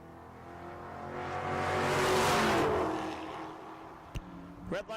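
Drag race cars, one a Mustang, launching at a raceway: a loud roaring engine swell builds and fades over a few seconds as the cars pull away, heard from a distance, followed by two sharp mechanical bangs.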